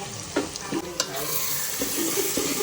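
Chilli powder, garam masala and coriander-cumin powder fry in a pan for a green pigeon pea lilva dhokli, making a loud continuous sizzle with repeated spoon scrapes close by.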